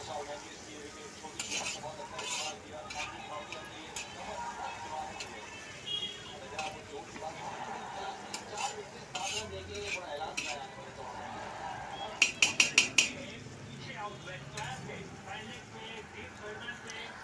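Onions and tomatoes frying while a spoon stirs them in a pan, with repeated scrapes and clinks of metal against the pan and a quick burst of rapid clinks partway through, close and moderately loud.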